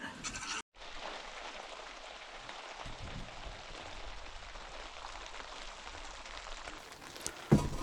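Rain drums steadily on the roof of a small taiga cabin during a night storm, a continuous dense patter heard from inside, close and moderate in level with no talking.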